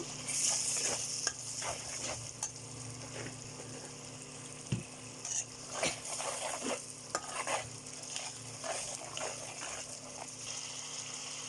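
Spices with cumin powder being stirred and sautéed in a hot pan, a steady sizzle under repeated scraping and clattering strokes of a spoon, close and fairly loud throughout.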